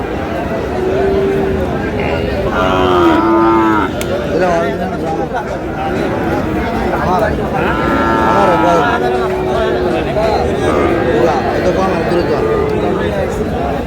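Cattle, including Sahiwal bulls, low over a busy crowd at the Aftabganj cattle market, with a few drawn-out moos rising above steady chatter and bustling market noise.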